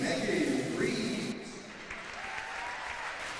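Hockey arena crowd applauding a player introduction at a women's showcase game: dense, loud clapping and cheering that eases after about a second and a half into a lower, sustained ovation.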